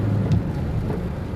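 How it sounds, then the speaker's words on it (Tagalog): Heavy rain falls during flooding in Bacolod City, Philippines, as a steady, dense wash of broadband noise with a low rumble underneath, continuous and fairly loud, with no speech. "So sa ngayon hindi pa tumitila po ang ulan mga kapapa."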